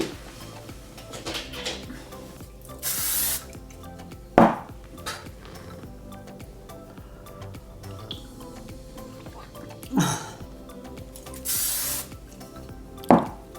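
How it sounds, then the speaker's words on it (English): A hair product spray bottle mists curly hair in several short, close hissing bursts, with soft handling clicks and clunks between sprays. "I just sprayed that in my eye"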